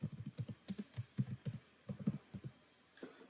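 Rapid, uneven keystrokes on a computer keyboard while code is entered into a Java program in Eclipse on Windows, close and fairly quiet, in bursts with short pauses and no talking.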